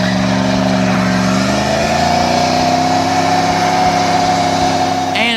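A Dodge Durango R/T V8 runs loud and close, a steady deep engine drone with its pitch rising slightly as it revs.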